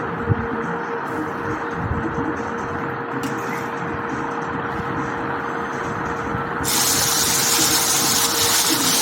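Hot jaggery water pours into mung dal semolina in a home kitchen, a steady rushing gush over constant background hum that grows louder and brighter toward the end.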